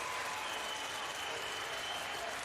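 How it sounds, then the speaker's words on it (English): Home fans in an ice hockey arena keep up a steady wash of applause and crowd noise, moderately distant and continuous, with no clear voices over it. "the home team will likely lean on a bit of that applause and support from the fans"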